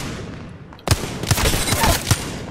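Apex Legends gunfire bursts in after a brief quiet lead-in, several sharp close shots and rapid impacts in an uneven rhythm, loud and alone without talk.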